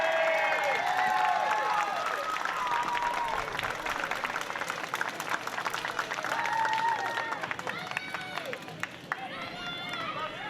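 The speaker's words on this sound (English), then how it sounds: "one more round of applause for all 4 of our Hall of Fame inductees from the 2019 class" A crowd at a mascot Hall of Fame induction ceremony in Whiting, Indiana gives a sustained round of applause for the inductees, dense clapping and cheering filling the room while voices carry over it.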